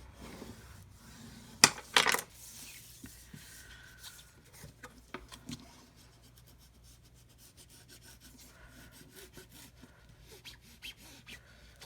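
Treated paper for a handmade wedding keepsake album being handled, giving dry rasping and rubbing rustles, with a couple of sharp crisp crackles near the start followed by quieter intermittent scraping and rustling.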